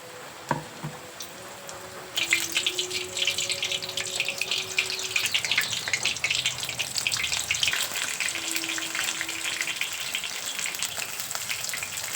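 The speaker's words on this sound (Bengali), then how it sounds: "ফুলগুলোকে একটা একটা বেসনের মধ্যে ডুবিয়ে তেলের মধ্যে দিয়ে ভেজে নেব" A few soft plops as water lily flowers dipped in gram flour batter go into hot oil, then a loud, steady sizzle of pakoras frying that crackles continuously to the end.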